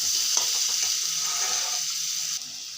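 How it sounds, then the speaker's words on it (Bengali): Potatoes with turmeric and salt stir-fried in a pan produce a close, steady sizzle with a few soft scraping stirs early on, fading slightly at the end. "দিয়ে আলুগুলোকে ভালো করে লাল করে ভেজে নেব।"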